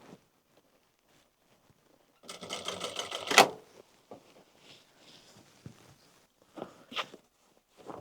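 Sewing machine top-stitching a quarter inch below the top edge through the fabric and interfacing layers of a sun hat, one loud close burst of stitching for about a second, then scattered handling clicks and rustles.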